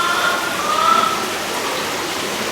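Water runs steadily onto a fish house floor, a continuous hiss-like rushing that stays even and fairly close throughout, with no talking.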